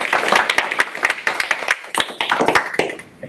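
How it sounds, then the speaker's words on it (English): Audience at a Sydney CocoaHeads developer meetup clapping for a speaker, a dense patter of many hands close by that stays steady for a few seconds and then thins toward the end. "Another round of applause for Amy, please."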